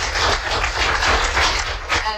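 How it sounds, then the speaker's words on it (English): Audience applause in a lecture hall at a summer school event, dense and steady clapping from many hands rising and falling slightly over about two seconds. "let's give a round of applause and say thank you"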